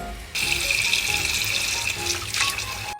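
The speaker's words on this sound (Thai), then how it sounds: "เดี๋ยวเราก็เอาไปล้างน้ำนะคะ" Tap water runs over cooked macaroni in a sink, a steady splashing gush that starts abruptly and continues at an even level. It cuts off sharply near the end.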